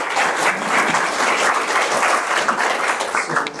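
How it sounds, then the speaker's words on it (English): A conference audience at an exercise oncology symposium applauds steadily, a dense wash of many hands clapping at an even level from start to finish. "would you please give a big round of applause?"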